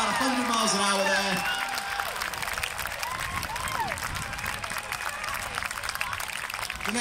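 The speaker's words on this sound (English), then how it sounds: "Big round of applause" Spectators clapping and cheering for a parachutist landing at a display, with the crowd noise carrying outdoors over wind and a voice commentating above it.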